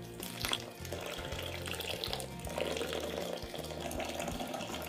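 Seven cups of water poured in a steady, continuous stream into a cold brew coffee filter bag, splashing and rushing at an even level throughout with no talking.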